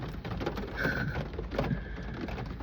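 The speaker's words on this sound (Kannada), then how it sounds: "ಗೈಸ್ ಮಳೆ ಗೈಸ್" Rain falls beside a highway footpath in the evening, a short burst of close, dense pattering on nearby surfaces with a faint tonal whine drifting through.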